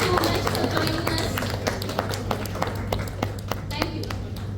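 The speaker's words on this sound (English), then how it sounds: "Let us give an applause to Madam." Steady, sustained applause from an indoor audience at a women's entrepreneur business event, with dense clapping and a few sharper claps standing out.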